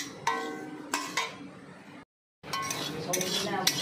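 Poppy seeds stirred in a pan, a spoon clinking and scraping against the metal in a few light taps, with a brief drop to silence midway.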